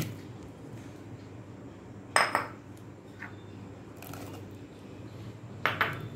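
Cut mango pieces are moved into a bowl, giving a few sharp clinks of utensil against dish at intervals over a steady low background hum.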